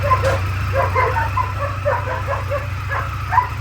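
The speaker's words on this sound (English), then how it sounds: "why are the dogs so like fixated on this bike?" Several dogs yip and bark excitedly at a motorcycle, rapid overlapping barks and whimpers over a steady low engine rumble, close and fairly loud.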